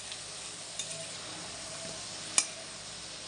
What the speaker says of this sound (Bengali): তো মটনের আলুটা আমি ভেজে নিচ্ছি।